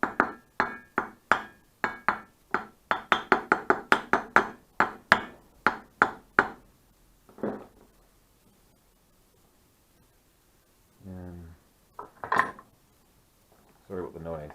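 Metal parts of an Etek electric motor are tapped together during a repair, a quick run of sharp, evenly spaced knocks close by, then a few scattered clanks and brief talk after a pause.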